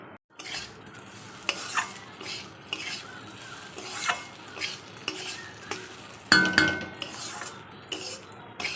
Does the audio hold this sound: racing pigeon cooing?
no